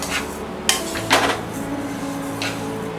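Flax seeds dry roasting in a pan over a low to medium flame: a spatula clinks and scrapes against the metal, with a few sharp knocks spread over the stretch and no voices.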